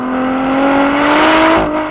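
A Ford GT engine accelerating hard on a winding road, a loud close whine rising steadily in pitch before a quick upshift into fourth gear drops the tone near the end, with no talk.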